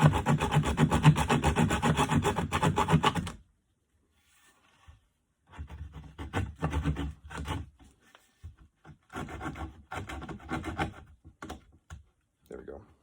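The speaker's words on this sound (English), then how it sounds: "Your saw end is not going to make it smooth for you. It's going to create a little bit more of a task. But that's okay, because that's what we have sandpaper for." Rough sawn wood being sanded by hand with sandpaper: a dense, steady scratching rub for a few seconds, then after a short pause, irregular bursts of rasping strokes at close range.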